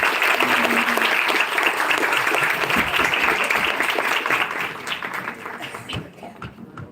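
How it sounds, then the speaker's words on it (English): An audience at a suicide prevention day session breaks into sustained, crowded applause, loud and even at first, then thinning and fading over the final seconds. "And a big round of applause for all of you"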